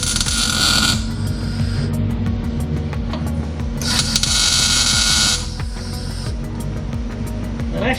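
A welder tacks a bracket while an anti-roll bar goes onto an LS turbo car: two bursts of harsh crackling, hissing arc noise, near and loud, over a steady low electrical hum.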